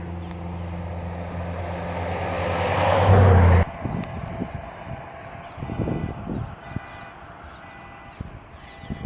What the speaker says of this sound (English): Somebody's car going off over in the parking lot.